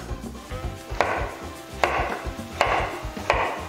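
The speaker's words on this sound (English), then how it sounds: "I'm gonna cut my potatoes" Knife chopping potatoes into big portions on a board, four distinct firm cuts spaced under a second apart with softer scraping between, close and clear with no talking.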